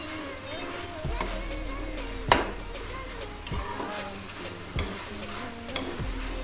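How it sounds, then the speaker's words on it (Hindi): Ginger garlic paste is roasted on a very low flame in a pan, giving a steady soft sizzle throughout, punctuated by a few sharp spoon taps and scrapes against the pan. "इसकी भुनाई हो रही है। हम बिल्कुल ही लो फ्लेम पे इसकी भुनाई कर रहे हैं।"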